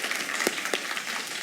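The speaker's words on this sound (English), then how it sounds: "that's worth applause." Steady audience applause at a college faculty and staff convocation, a fairly even wash of many hands clapping in a large hall, moderately distant, with a couple of louder claps standing out.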